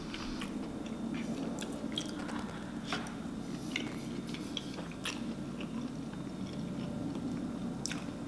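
Someone eating snow crab legs from a seafood boil, with close wet chewing and biting, occasional sharp cracks and clicks of shells or utensils, steady and near with no talking.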